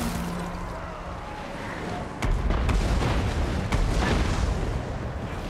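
Artillery and cannon fire rumble through a Total War Warhammer 2 battle, starting after a quieter stretch of ambient noise, then heavy booms and sharp cracks repeat at irregular intervals over a low, continuous roar.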